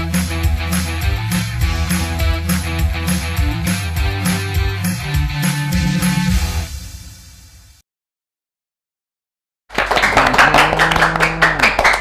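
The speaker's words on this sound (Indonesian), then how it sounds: "Masih nyambung tepuk tangan di pojok itu." A group in the corner claps steadily for several seconds with rhythmic hand claps over background music, fading out into silence before louder ambient noise returns.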